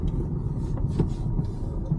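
A train passes near farm fields, making a steady, fairly loud low rumble that holds throughout with no voices over it.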